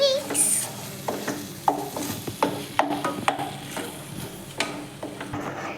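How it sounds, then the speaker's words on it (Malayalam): A spoon stirs pepper powder into white sauce in a pan for smashed potato with chicken, giving a run of close, repeated scraping strokes over a soft, steady sizzle. "ഇതിലേക്ക് നമ്മൾ ഇച്ചിരി പെപ്പർ പൗഡർ ആഡ് ആക്കിയിട്ടുണ്ട്. Just mix."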